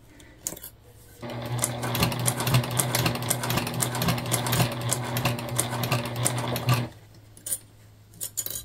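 A sewing machine stitches quilted poly fabric in one steady, loud, rapid whir lasting several seconds, with faint pauses before and after.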